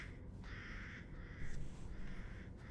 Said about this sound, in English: Hey, birds.